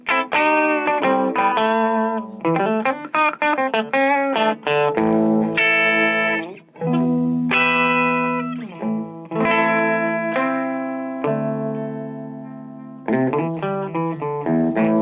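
An electric guitar plays melodic phrases and sustained chords in a clean, ringing tone with light reverb, loud and close, with no voices.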